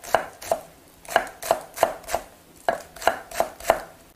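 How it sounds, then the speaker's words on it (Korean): A knife finely slices about five green onion stalks on a cutting board, making close, crisp, evenly paced chops in quick bursts. "송송 썰어줘요."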